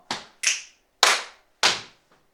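Body percussion in a youth choir rhythm exercise: a finger click, a clap, a knee slap and another sharp hit in steady sequence, crisp and close, then a faint tap.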